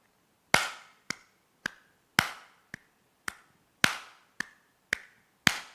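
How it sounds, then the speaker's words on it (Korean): Single pair of hands claps steadily in a three-beat rhythm, crisp isolated claps with some louder than others, close and clear in a quiet room. "저는 계속 똑같이 박수만 쳤는데 3박자가 돼서 어떻게 됐죠?"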